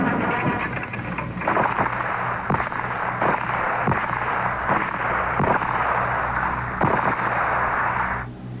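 Toy cap guns fire in a dense barrage of sharp pops and cracks in a comic radio ad, crackling steadily over a loud sustained noisy wash for about eight seconds before stopping.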